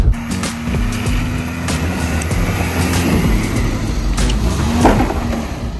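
A Jeep driving off-road gives a rough, rumbling engine and drivetrain noise with clunks and rattles from the uneven terrain, steady and close throughout.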